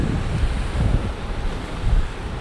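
Sea waves wash onto a white-sand beach on the Spanish coast while wind buffets the microphone, a steady low roar with soft swells rising every second or so, with no talk.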